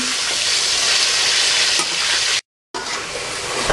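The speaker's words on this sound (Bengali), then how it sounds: "এখন আমরা নেড়ে বাদামি করে ভেজে নেব।" Chicken pieces stirred and fried until brown for a tomato chicken curry, giving a loud, steady, close sizzle with stirring scrapes, broken by a brief cut to silence before the frying resumes.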